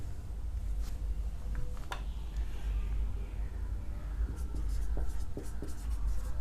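Pen scratching across paper while a chemical formula is written by hand, a steady close scribble of short strokes and taps with a low background hum, no voices.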